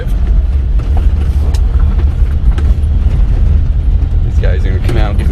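A 4x4 mini truck drifts through deep snow, its engine a steady low rumble that runs loud and close through the whole stretch, with a short burst of voices near the end.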